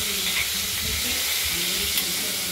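Pieces of rohu fish, rubbed with salt and turmeric, fry in hot oil in a kadai, giving a steady, close, broadband sizzle with some stirring noise underneath and no talking.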